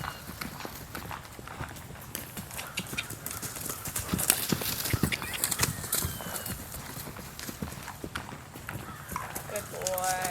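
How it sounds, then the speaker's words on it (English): A horse canters in a working session, hooves clip-clopping in a quick rhythmic beat at moderate distance, while a person talks over the footfalls. "I'll ask him to canter this way since he changed directions on his own"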